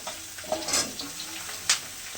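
Sliced ridge gourd and stems fry in oil in a pan with onion and garlic, a soft steady sizzle broken by a few louder hissing bursts and light stirring clatter close by.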